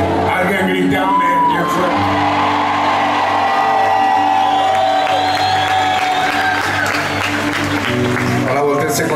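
A worship congregation at a gospel concert in Itagüí, 2023, cheers and shouts loudly and continuously, a dense crowd roar with whoops and yells under music for the whole stretch.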